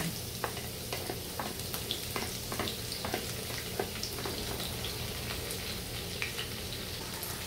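Garlic frying in hot oil in a pan, a constant crackling sizzle with scattered sharp pops and spits, close and steady throughout.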